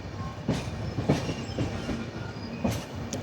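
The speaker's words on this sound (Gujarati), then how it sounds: "500 કિલોમીટર નોન સ્ટોપ આ ટ્રેન હાલે છે." A nonstop Mumbai Central–Ahmedabad express train runs past on the Western Railway, its wheels giving steady rhythmic clickety-clack beats over the rails, loud and close with no voices.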